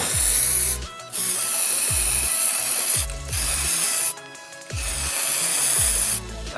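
A spray gun applies paint to a car panel in four loud, sustained hissing bursts, each cut off by a short pause with a low mechanical clunk as the trigger releases.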